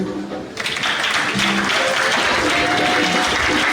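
An audience at a church dedication service breaks into loud, sustained applause acclaiming the speaker's father, with clapping swelling after a quiet start and continuing steadily alongside faint crowd voices.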